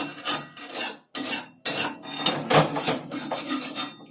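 A metal spatula scrapes stuck-on food from the bottom of an iron wok in a series of close, loud rasping strokes with brief pauses between them.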